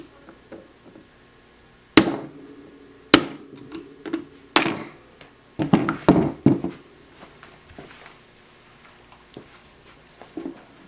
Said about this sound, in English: grab your flathead, rest it right at the very bottom, and with using your hammer, you want to gently tap it